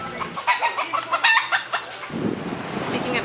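Several chickens cluck in a quick, irregular series of short bursts, fairly close, before the sound gives way to a steady low rumble of background noise.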